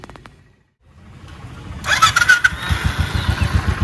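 A motorcycle parked outside a hotel in Tezpur cranks briefly after a few faint clicks, then fires up and settles into a loud, close, rapid idle.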